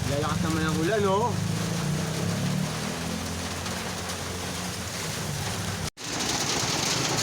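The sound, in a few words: rain getting heavier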